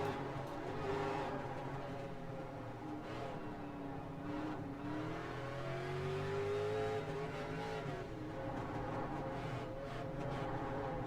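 Race car engines in the iRacing sim, a continuous droning roar with rising and falling pitch sweeps as cars accelerate past, moderately loud and steady throughout with no talk.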